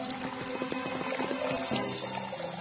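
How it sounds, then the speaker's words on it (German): A leaking water pipe in an animated children's firefighter show sprays and splashes steadily throughout, with a tonal musical score layered underneath. "wer wird jetzt bitte schön unser undichtes Wasserrohr reparieren?"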